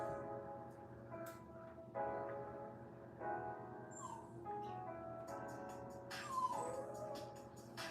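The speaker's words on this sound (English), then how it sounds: "You can hear my little pup." A small pet pup named Brutus whines and howls in repeated rising, wavering cries close by, over a steady low indoor hum, with a few higher yelps near the end.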